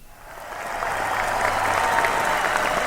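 Applause from a crowd swells in quickly and holds at a steady, moderate level, a smooth wash of clapping with no voices over it.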